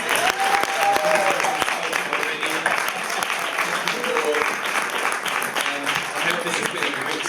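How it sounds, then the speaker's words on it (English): Sustained round of applause from a panel-discussion audience at a screen dance event, a dense wash of many hands clapping steadily throughout, with a few voices and a brief cheer rising through it. "can we give another big round of applause for all of this?"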